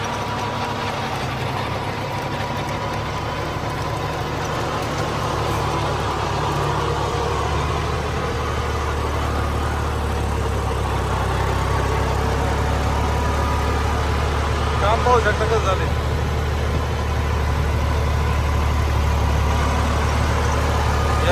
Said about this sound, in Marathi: आता ट्रॅक्टर चालतोय